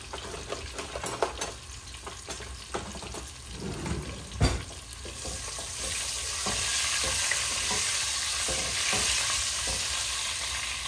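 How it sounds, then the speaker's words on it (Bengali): Eggs frying in a pan give a steady close sizzle, with scraping and stirring clatter and one sharp knock near the middle; no one talks. "আমি ডিমগুলা ভেজে নিচ্ছি প্রথম।"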